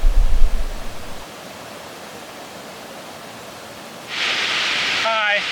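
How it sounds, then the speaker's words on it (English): Torc Waterfall near Killarney, Ireland, roars as a steady broadband rush of falling water, with a brief low thump at the start and a brighter hiss swelling near the end. "Our last stop for the day is the Torque Waterfall."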